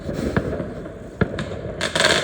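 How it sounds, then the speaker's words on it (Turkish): Fireworks explode in a street on New Year's Eve, with several sharp bangs and cracks at irregular intervals over a constant crackling, rumbling background, some near and loud, with a dense burst of pops at the end. "Çok uzakta bir bayağı bir havai fişek atıyorlardı."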